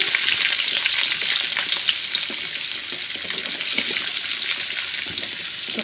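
A steady, close sizzle of onions frying in oil with mustard seeds, cumin and curry leaves for bitter gourd gojju runs throughout with light stirring scrapes and no voices.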